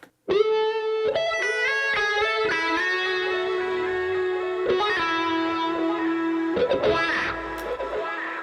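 An electric guitar on an Archetype: Cory Wong amp plugin plays sustained, distorted notes that swell and sweep in tone through an auto wah at default settings, with a few chord changes and no talking.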